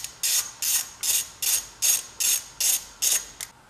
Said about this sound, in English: tighten down your 2 8-millimeter bolts